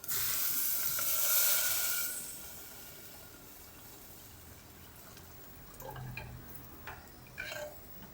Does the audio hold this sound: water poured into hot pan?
yes